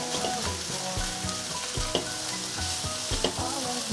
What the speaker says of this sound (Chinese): 大火快炒均匀